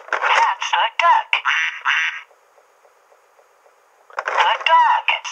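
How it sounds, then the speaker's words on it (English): Tinny, thin-sounding duck quacks come in rapid bursts, stop for a couple of seconds of near silence, then resume. "That's a duck."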